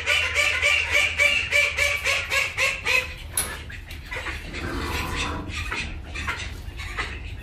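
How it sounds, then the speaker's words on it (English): Ducks kept at a school veterinary science program give a rapid run of loud, rhythmic quacks in the first few seconds, then fainter scattered calls over background noise. "So we have the ducks over here that are quite loud."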